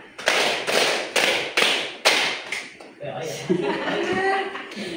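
A classroom of students claps in a rhythm game, five sharp unison claps in a steady beat, then looser scattered claps and chuckles with voices chattering over them.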